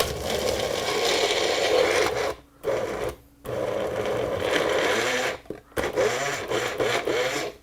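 A kitchen chopper grinds and scrapes through chunks of cheese and jalapeno in a loud, steady whir, stopping briefly a few times before starting up again.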